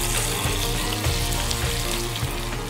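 A lean venison loin searing in a hot pan with olive oil gives a loud, steady crackling sizzle with small popping bursts throughout.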